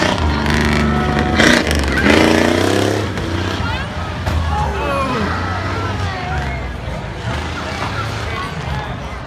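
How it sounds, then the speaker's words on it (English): A monster truck at a Tuff Trucks event in Lebanon, Oregon, revving hard through a wheel stand and over a big jump, its engine roaring loud and rising, with an announcer and crowd noise over it. "There he goes, wheel stand, hop and a skip, going over the big jump now."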